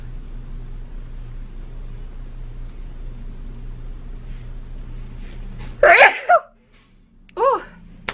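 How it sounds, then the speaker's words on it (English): A single sharp sneeze bursts out after a stretch of low background hum, followed by a short breathy vocal sound. "I'm going to sneeze."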